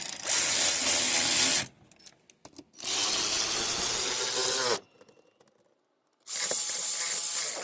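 A tool tightens the screw back down on a Hybrid Racing shifter, running in three loud, steady mechanical bursts of a second or two each, separated by short pauses with faint clicks.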